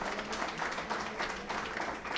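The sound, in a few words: applause for Dr. Luzmila Illueca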